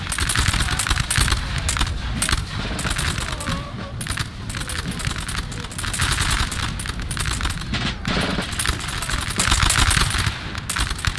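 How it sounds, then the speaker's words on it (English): Musket volleys in the video game Napoleon: Total War 3 during a large battle: dense, continuous crackling gunfire with overlapping shots, loud and sustained throughout, and a faint voice underneath. "Very nice volley right there."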